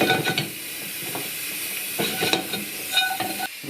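Whole spices toasting and being shaken in a dry frying pan, for a bunny chow curry, giving a steady dry hiss and faint sizzle with brief rattling bursts as the pan is jostled, close and moderately quiet, with no talking.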